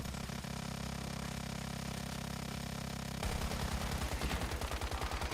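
Rapid gunfire in The Secret World video game, a steady mechanical drone that breaks into a fast rattling burst of shots growing louder toward the end.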